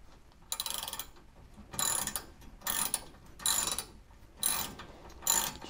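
A ratchet tightens new 5/8 caliper mounting bolts on a C3 Corvette front brake: six or seven crisp, close bursts of clicking, each lasting about half a second, evenly spaced apart with quiet gaps between.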